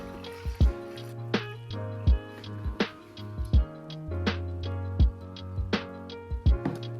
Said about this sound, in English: It helps break the flow when I pour it in with the bucket.